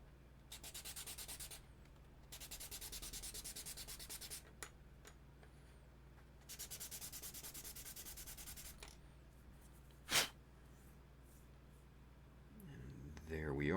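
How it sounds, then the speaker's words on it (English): Sanding block rubbing back and forth across a model kit part in long, steady rasping strokes, with pauses between passes and one sharp knock near the end. "now we're going to bring in our little sanding block."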